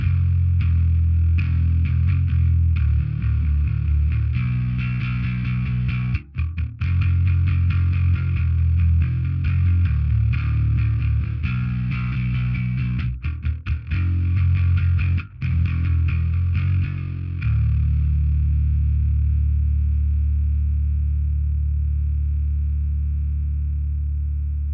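A bass guitar played through an overdrive pedal gives a thick, gritty distorted tone, with sustained notes and a few brief choppy breaks, then one long note left ringing and fading alone.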